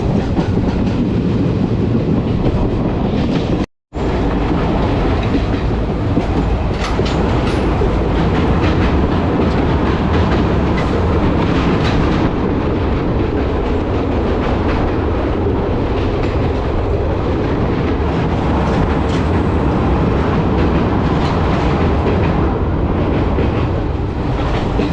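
A Haldibari–Kolkata Superfast Intercity Express runs on Indian Railways track toward Pakur station in Jharkhand, a loud, steady rumble with a rhythmic clickety-clack of wheels over rail joints, continuous throughout apart from a momentary dropout early on.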